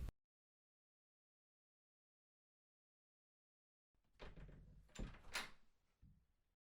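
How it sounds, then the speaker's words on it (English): A door is unlocked and opened after a long stretch of silence. A cluster of quiet clicks, rattles and a knock is followed by a final softer clunk, heard close and alone. "There, door's open for you"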